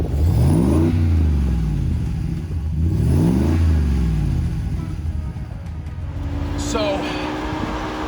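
A supercharged engine in a Hellcat-swapped Jeep Gladiator revs from the rear, rising and falling in two strong sweeps before settling into a loud, rumbling idle, with a voice speaking over it.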